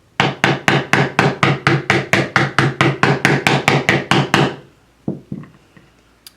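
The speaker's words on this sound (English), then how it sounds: "you can just sort of take your hammer and give it a few little taps" A hammer gives a length of wire quick little taps to work-harden it, about eighteen sharp, evenly spaced strikes close up, then a pause and a couple of softer knocks.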